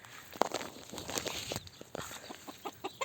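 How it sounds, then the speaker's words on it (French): Chickens and a rooster cluck in a backyard flock of white and grey hens, with a run of short, close clucks and scattered footsteps or scratching. "2 blanches comme celle-ci et ce magnifique coq."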